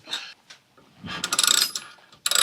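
Ratchet wrench loosening a brake caliper bolt on a 1998 Mercedes-Benz C230 during a brake overhaul: a few short bursts of rapid metallic clicking, close and fairly loud, separated by brief pauses.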